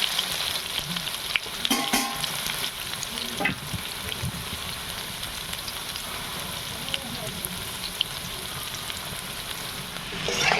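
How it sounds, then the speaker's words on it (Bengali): Cut potatoes fry in hot oil in a home kitchen, a continuous soft crackle and sizzle with occasional stirring clinks, fairly quiet and steady throughout. "আমি আলুটা এইভাবে কেটে লাল লাল করে ভেজে নেব"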